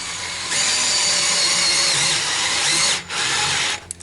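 A power drill spins a universal socket to drive a fastener, producing a steady high whine for about three seconds, close and loud, then briefly dropping out and sputtering as the trigger is released.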